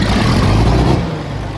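A farm tractor engine runs loud and close at a steady idle with a deep, rumbling drone during corn harvest work, easing slightly in level toward the end.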